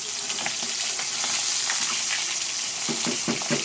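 Snakehead fish head frying in hot oil: a steady, loud sizzle and crackle that runs throughout, with bubbling pops growing stronger toward the end.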